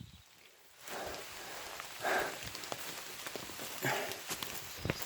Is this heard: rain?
yes